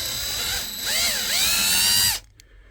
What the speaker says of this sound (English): So all I'm doing is drilling these rivets up.